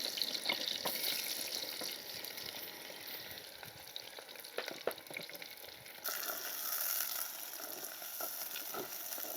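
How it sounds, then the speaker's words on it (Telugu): Onion and green chilli frying in a few spoons of oil with fenugreek seeds for a coconut-milk fish curry, a soft steady sizzle with faint stirring, quiet and close, no voices. "ఫస్ట్ ముందుగా ఉల్లిపాయ, పచ్చిమిరపకాయ వేపుకుందాం."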